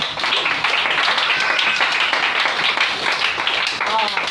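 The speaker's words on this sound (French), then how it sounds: "Acclamons Jésus pour les filles" A church congregation at a worship service in Koumassi acclaims Jesus with steady, dense clapping and cheering that carries on throughout, with voices mixed into the crowd noise.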